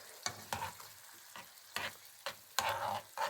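Foraged mushrooms sizzle and are stirred in sour cream in a pan, with soft frying crackle punctuated by repeated scraping strokes of a utensil at a steady, uneven rhythm, close and fairly quiet.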